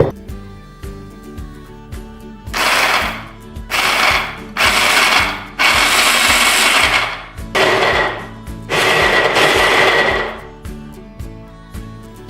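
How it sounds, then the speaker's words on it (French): A blender pulses through rhubarb, sugar and cinnamon for a quick pickle in several loud, whirring bursts of a few seconds each, separated by pauses in which a rhythmic ticking continues. "quelques coups de mixeur suffisent normalement"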